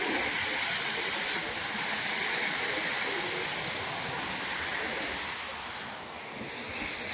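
Waterfall at the back of a beach, a broad steady rush of falling water that holds loud and even throughout, with no clear voices rising above it.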